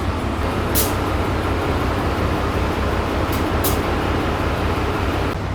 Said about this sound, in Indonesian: Kereta api Lembah Anai masuk jalur 2.